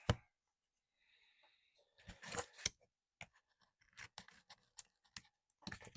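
Scissors snipping through card shipping packaging, a series of sharp, close cuts and crinkly handling noises separated by quiet pauses, loud bursts near the start and end.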